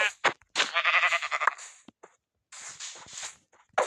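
Sheep bleating in Minecraft, two drawn-out calls separated by short silence, mixed with light clicks and shuffling noises.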